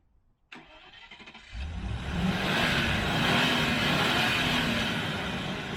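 Land Rover Defender with a 3.9 V8 engine starting up, a brief click then a rising roar that settles into a steady, loud idle that stays close and continuous.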